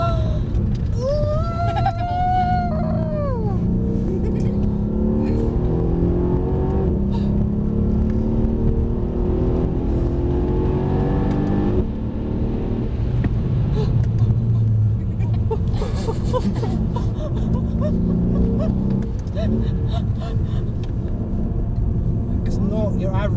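A Mercedes-AMG saloon car accelerates hard on a race track, a loud, continuous engine roar and rumble heard from inside the cabin, with voices talking over it.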